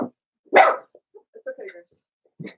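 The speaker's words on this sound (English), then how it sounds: "that's my dog" A pet dog gives one sharp, loud bark indoors during a live online talk, followed by small whimpers and yips while someone speaks briefly to it.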